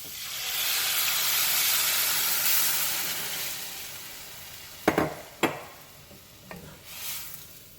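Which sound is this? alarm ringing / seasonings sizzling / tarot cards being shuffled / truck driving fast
seasonings sizzling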